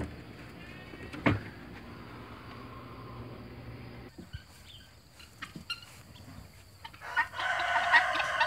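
A hen near her nest of eggs clucks and calls in several short, uneven bursts, close and moderately loud, with scattered handling noises and a burst of rustling toward the end.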